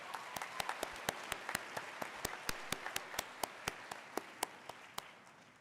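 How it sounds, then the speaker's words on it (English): Single, evenly spaced claps ring out at a graduation ceremony, a sparse steady rhythm in a large hall that fades toward the end. "May we please give them a well-deserved round of applause"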